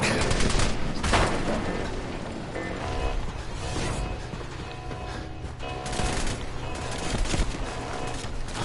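Sustained bursts of gunfire from a firefight in the post-apocalyptic video game Fallout 4, with rapid loud shots and clattering impacts layered over game music, continuous across the whole stretch.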